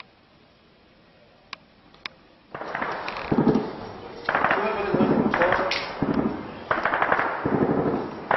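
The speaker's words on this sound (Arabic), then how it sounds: "كل حواجز الجيش تقوم بإطلاق الرصاص عشوائي على المنازل" Sporadic gunshots crack out in Zabadani, Syria, as army checkpoints fire at houses, two sharp isolated reports first, then sustained bursts of rapid fire with voices shouting beneath the noise.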